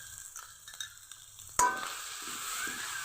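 Chicken bun filling thickened with flour and water is stirred in a pan, with a few soft scrapes, one sharp clack of the spoon, then a brighter, steady sizzle close by.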